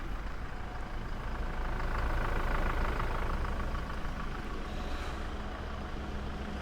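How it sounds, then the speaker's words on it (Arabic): Steady low diesel engine rumble of a 2025 Toyota Hilux single-cab pickup idling at close range, a continuous even drone with a faint higher whine, no voices. "والحين نسمع صوت المحرك، محرك الديزل"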